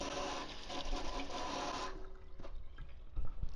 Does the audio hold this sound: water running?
yes